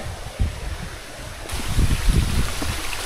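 Water runs out of a broken pipe near an off-grid power setup, a steady rushing flow outdoors that grows louder and more turbulent partway through, with low rumbling splashes and no talking.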